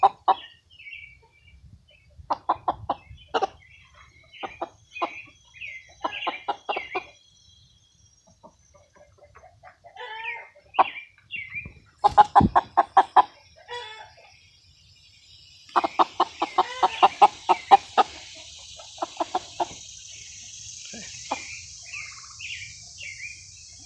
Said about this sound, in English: These chickens are incredible.